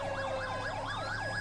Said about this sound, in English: go full lights and sirens behind this motherfucker